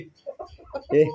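A few short, throaty clucks from Tiger and local country chickens in quick succession, close by, rising to a louder squawk at the end.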